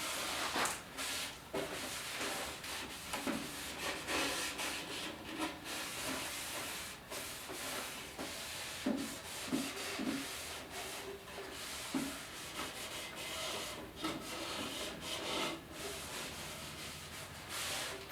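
A rag wiping excess wipe-on polyurethane finish off a wooden surface, a soft continuous rubbing hiss in repeated close strokes with no talking.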